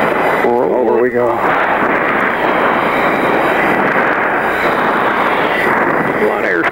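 An F-14 jet with afterburner lit roars at an airshow, a loud, continuous broadband rumble throughout, with a short burst of radio-style speech near the start.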